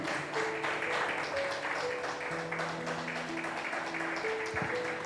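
A church congregation applauds the Lord during a sermon, a soft, diffuse wash of clapping heard from a distance with faint sustained musical tones underneath.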